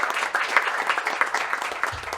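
An audience applauds at a directors' inauguration ceremony. The clapping is moderate and steady for a couple of seconds, with low rumbling near the end.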